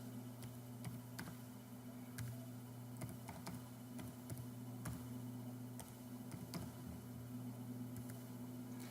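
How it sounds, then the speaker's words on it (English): Numbers being typed on a computer keyboard with tab key presses while entering spreadsheet data; irregular crisp key clicks over a steady low electrical hum, no talking. "And I'm just using the tab key and typing my numbers."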